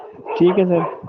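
Dogs bark in the background, a few yelping barks rising and falling over about a second, mixed with a voice speaking close by.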